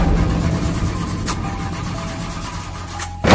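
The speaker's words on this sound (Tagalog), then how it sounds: "biglang pumugak-pugak ang makina ng kotse hanggang sa tuluyang mawala ng buhay ang makina" A car engine runs rough at a steady, loud mid-pitched drone with faint irregular stumbles, close by, then cuts out abruptly at the end.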